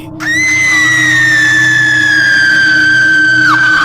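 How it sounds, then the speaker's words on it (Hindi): A girl lets out a single long, piercing scream, very loud and close, holding one shrill pitch for several seconds before breaking off sharply, used as a horror sound effect. "वो लड़की इतनी जोर से चीख पड़ी"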